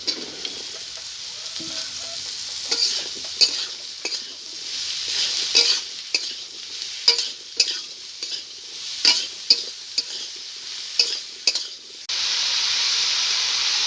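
Cut ridge gourd hits a hot pan and fries with a bright sizzle, punctuated by repeated scraping and clattering stirs, ending in a louder, steadier hiss.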